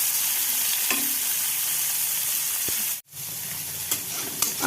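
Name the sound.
onion and tomato frying in pan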